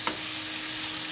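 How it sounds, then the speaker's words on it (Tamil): Onions and curry leaves sauté in a pan for samba rava upma, giving a steady, dense sizzle and crackle that continues without pause, with no voices. "வெங்காயம் நல்லா பொன்னிறமாக செவக்கிற வரைக்கும் நல்லா வதக்கணுங்க."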